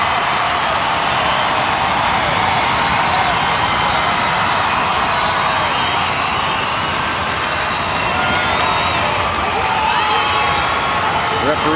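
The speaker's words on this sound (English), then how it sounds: "Crowd coming to life, especially in the South End grandstand." A stadium crowd at a women's football friendly between Canada and Brazil keeps up a steady, dense roar of cheering and chatter, broad and continuous with a distant hiss, while a commentator talks over it.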